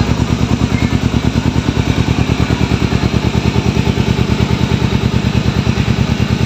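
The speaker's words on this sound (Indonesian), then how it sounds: "Kita matikan mesinnya dulu." A 2011 Kawasaki Ninja motorcycle engine running at a steady idle, close and loud, with an even rapid pulsing beat and mechanical clatter throughout, no voices.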